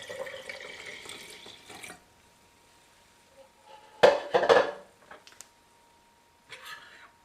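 Water poured into a lidded mason jar alongside rice vinegar and soy sauce while making potsticker dipping sauce, a short splashing burst in the middle between quieter kitchen clatter and pauses.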